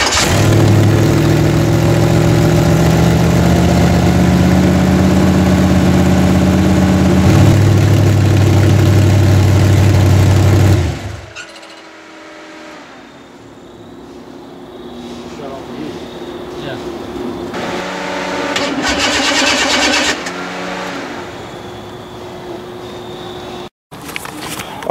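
A 406 small-block Chevy V8 fitted in an S10 truck, run in a trailer park at night while being broken in, drones loudly and steadily for about eleven seconds, then falls away to a quieter background with voices.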